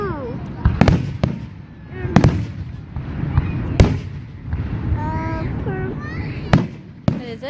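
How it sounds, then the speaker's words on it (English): Fireworks explode in a rapid series of sharp, loud bangs and crackling bursts, some near and some farther off, while people and someone talk over the noise. "they're fireworks. They're explosives."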